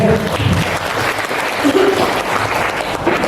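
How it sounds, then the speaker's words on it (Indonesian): Seminar audience at a parenting talk applauding together, a dense, steady clatter of clapping from a full room filling the whole moment. "Tepuk tangan semua."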